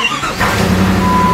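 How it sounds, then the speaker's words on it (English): A car engine starting up right after fresh oil has been added during an oil change, the motor catching quickly and settling into a steady, close idle. "now you turn on the car"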